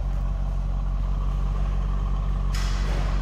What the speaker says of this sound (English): good sounding Corvette.